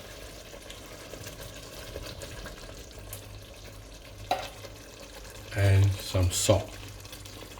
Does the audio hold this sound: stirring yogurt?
yes